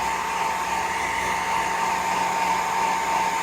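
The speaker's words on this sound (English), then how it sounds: "she seems fine with the blow dryer here" Steady, loud whir of a blow dryer running continuously and close by while a dog is dried after a shower, with no voices over the even drone.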